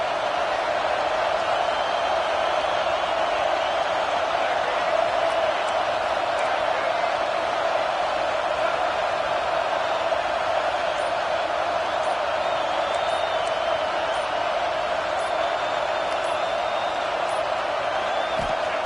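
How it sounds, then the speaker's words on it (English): A college football video game fills with steady stadium crowd noise, a dense, constant roar of a large crowd that holds at an even level with no clear cheers standing out. "This crowd trying to make life miserable for this offense."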